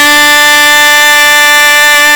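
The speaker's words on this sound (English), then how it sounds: "First and second valve, that's an E, again, sounds like this." A trumpet holds a steady E fingered with the first and second valves, one long even brassy note, close and loud, with nothing else heard.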